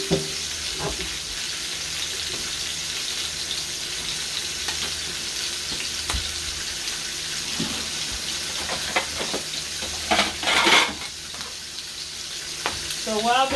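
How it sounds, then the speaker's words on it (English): Salmon steak sizzles continuously in a pan, with occasional clinks and scrapes of utensils and a brief burst of running water near the end. "You hear that sizzling sound?"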